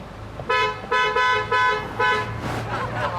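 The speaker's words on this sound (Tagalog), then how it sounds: "Sige, busina ka." A car horn honks four times in quick succession, loud and nearby, the blasts evenly spaced and followed by a faint engine hum.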